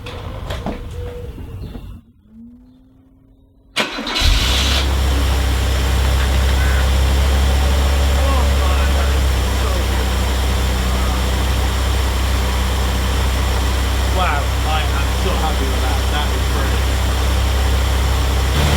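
A classic car with a Viceroy auto choke is started with the key. A short cranking and catch is followed by a loud, steady close-up idle that runs on without a break.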